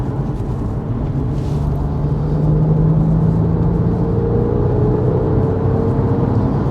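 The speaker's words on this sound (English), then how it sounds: "I don't know if this is still picking up the engine sound" Porsche 911 997 engine during a drive with the engine management warning light on: a steady, loud cabin drone and hum with smooth tonal rises as revs change, and no talking.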